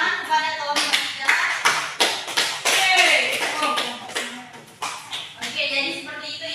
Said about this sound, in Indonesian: Tepuk tangan kepada kelompok 3.